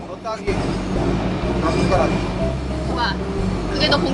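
A Seoul-style subway train rumbles steadily along the tracks while voices talk over the noise of the carriage.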